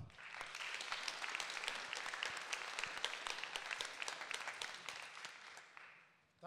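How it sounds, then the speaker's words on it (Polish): Audience applauding at an award ceremony honoring the National Centre for Culture and the Ministry of Culture, National Heritage and Sport: a dense, steady wash of many hands clapping that holds for several seconds, then thins before a final burst. "Ogromne brawa."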